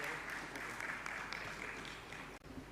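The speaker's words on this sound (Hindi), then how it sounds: "तालियों में आप लोगों ने कंजूसी कर दी, ताली जोरदार बजाएं" An audience at a Jain monk's discourse gathering claps vigorously, a dense continuous wash of hand claps that briefly cuts out near the end before picking back up.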